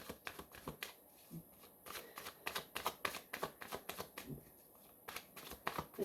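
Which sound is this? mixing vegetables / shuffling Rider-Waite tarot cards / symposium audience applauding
shuffling Rider-Waite tarot cards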